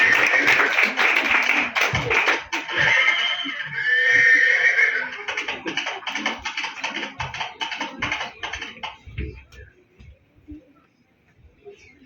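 Horse neighing for a horse cart in a college stage play of Ghaswali, a loud drawn-out whinny at the start followed by scattered clattering and tapping that fades toward the end.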